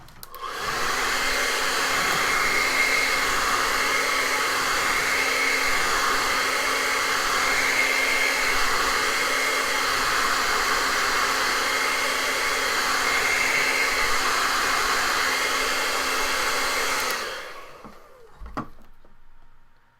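A hair dryer blowing on an acrylic painting of a winter village runs as a loud, steady whine and rush of air for about seventeen seconds before switching off and fading.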